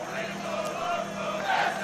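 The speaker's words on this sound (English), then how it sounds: "Gringo getting this crowd going." A wrestling crowd roars and jeers in a steady, dense wash of yelling voices that swells slightly toward the end.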